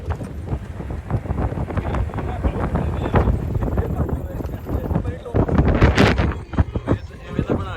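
Strong wind gusting across the microphone in the open countryside of the Jawai Dam area in Rajasthan, a continuous buffeting roar with surges, while people talk throughout.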